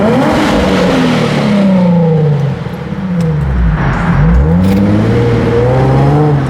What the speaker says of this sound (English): I'm gonna go in the tunnel right now, and I'm gonna floor it.